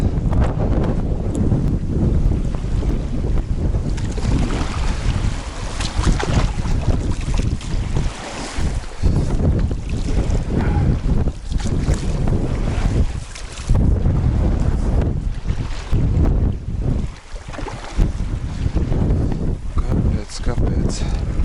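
A small boat rides over choppy waves on open water during a forest mushroom trip, with loud, steady wind buffeting the microphone and hull and spray noise rumbling throughout, and a voice speaking at times.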